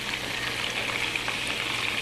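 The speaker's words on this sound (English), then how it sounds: "we're frying away here" Greek keftedes meatballs fry in a pan with a steady, dense crackling sizzle, close and even throughout, with no voices.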